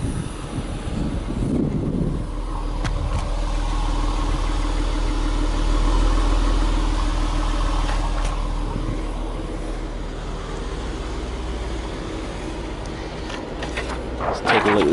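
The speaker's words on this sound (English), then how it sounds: "let's see what the exhaust sounds like" A Dodge Durango Rallye with a 3.6-liter Pentastar V6 idles through its exhaust in a steady low rumble, with faint clicks and rustles, while a voice talks over part of it.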